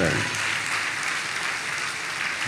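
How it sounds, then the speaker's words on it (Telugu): A church congregation at a sermon on baptism claps loudly, dense continuous applause that fills the room at an even level throughout. "చప్పట్లు కొట్టండి గట్టిగా"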